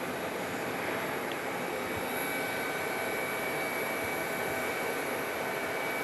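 C-27J Spartan military transport aircraft passing at Phoenix Sky Harbor airport, a steady, distant engine drone with a broad roar that holds even throughout, with no talk.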